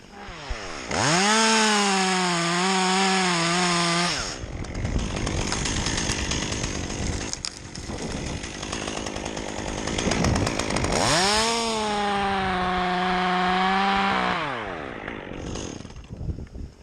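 A chainsaw revs up loudly, then bites into tree wood with a rough, grinding drone before revving again and slowing near the end.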